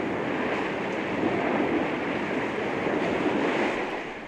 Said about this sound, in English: He heard waves splashing.